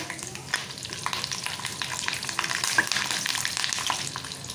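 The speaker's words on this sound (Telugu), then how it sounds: "ఇప్పుడు ఇందులో పొడుగ్గా కట్ చేసుకున్న పచ్చిమిర్చి, కరివేపాకు వేసుకోవాలి।" Slit green chillies and curry leaves hit hot oil with a loud, dense crackle and spitting sizzle that pops sharply throughout, close up and unbroken, with no talking.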